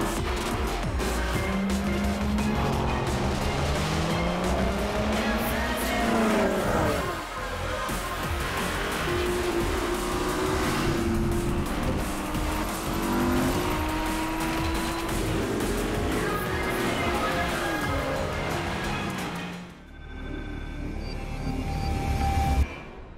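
Race cars in Drive Club VR, engines droning and revving steadily with rising and falling pitch sweeps as gears change, loud and continuous before cutting off abruptly near the end.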